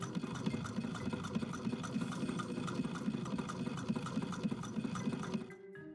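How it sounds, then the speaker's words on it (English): A sewing machine stitches bias tape onto the wrong side of fabric for an 1890s bathing costume, running steadily with a fast, even whir and clatter close up, then stopping near the end. "A row of bias tape gets sewn on the wrong side of the fabric to house the elastic."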